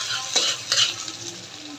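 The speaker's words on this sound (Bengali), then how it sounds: "সরিষার তেল গরম হয়ে গেছে, এখন অল্প পেঁয়াজ কুচি দিয়ে দিব। দিয়ে পেঁয়াজ কুচিটি হালকা ভাজা নিব।" Chopped onion hits hot mustard oil with a brisk sizzle, punctuated by a couple of close spatula scrapes against the pan, then settles into a softer steady fry.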